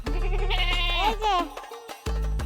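A cartoon goat lets out a loud, wavering bleat close up, rising and trembling before breaking off, followed by a brief pause and another low voiced sound.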